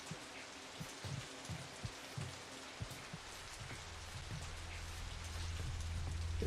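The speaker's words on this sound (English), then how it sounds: "I don't hear anything other than this rain" Steady rainfall patters continuously in the Shadow Corridor 2 horror game, with faint scattered thuds early on and a low rumble that gradually swells toward the end, all at low volume.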